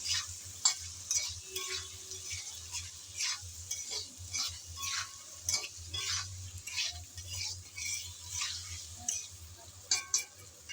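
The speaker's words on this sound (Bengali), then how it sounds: "তাই আলুটা আগে দিয়ে নেড়েচেড়ে একটু ভালোভাবে ভেজে নিচ্ছি।" Potato pieces fry in oil in a pan for a bitter gourd dish, with a continuous close sizzle and repeated scraping and tapping as they are stirred. No one speaks.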